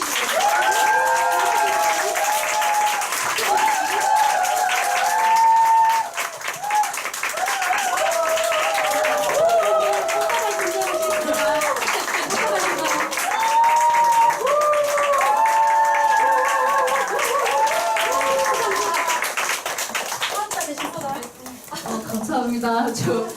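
A crowd at a Nu Skin recognition and awards ceremony applauds executives coming forward, with steady clapping and some cheering running under loud background music with melodic lines.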